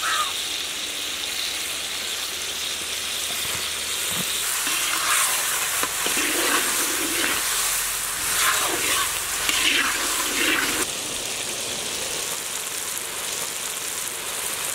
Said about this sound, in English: Sear fish pieces.